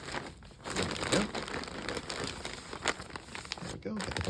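A blanket is pushed into a plastic vacuum storage bag, giving continuous close crinkling and rustling of plastic with small bursts through the few seconds, while a voice speaks over it.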